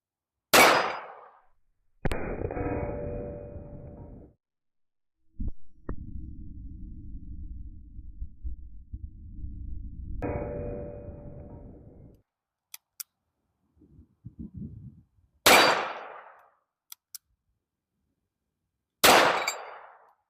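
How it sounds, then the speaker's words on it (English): A Chiappa Rhino 30DS .357 Magnum revolver fired in single action with .38 Special rounds, several sharp separate shots spaced seconds apart, with bursts of loud synthetic whooshing and clicking filling some gaps, close and without talk. "I'm going to shoot from single action so that it's nice and easy to see without any obstruction on my trigger"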